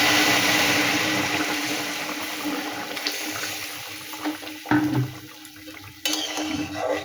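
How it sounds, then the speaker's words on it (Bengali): Boiling water poured into a pan of spiced cauliflower, potato and green beans, a loud rushing pour and hiss that gradually fades, with a few knocks and clatters. "এই দেখো ফুটান্ত জল দিয়ে দিলাম।"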